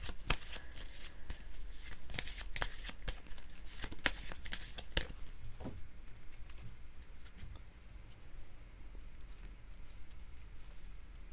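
Tarot cards are shuffled and drawn during a reading. Crisp riffling and snapping bursts fill the first half, then fade to quieter handling and soft rustles.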